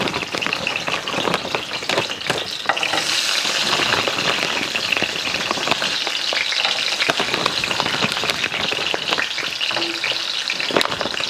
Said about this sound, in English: while Marie is frying this okra